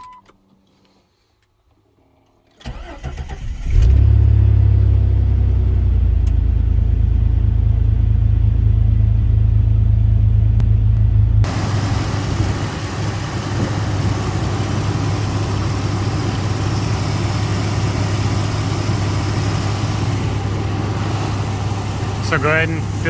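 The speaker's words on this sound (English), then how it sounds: "So go ahead and start up your vehicle." A 4.0-litre Jeep Grand Cherokee WJ engine cranks and catches, then settles into a steady, loud, close idle with a deep rumble that holds for about twenty seconds.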